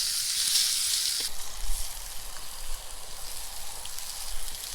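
Trout fry in butter in a frying pan, making a close, continuous sizzle with bright spitting at first that settles into a steadier hiss, dotted with small pops.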